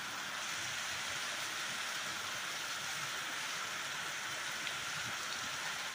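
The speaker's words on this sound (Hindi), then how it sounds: "बहुत तेज बारिश हमारे यहाँ पर लगी हुई है।" Heavy rain pours steadily around midnight, a dense, unbroken hiss of downpour that stays loud and even throughout, with no voices.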